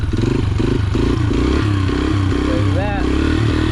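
A dirt bike engine drones loudly and close during wheelie practice, a rough, pulsing mid-pitched note with a rising whine near the end as someone talks over it.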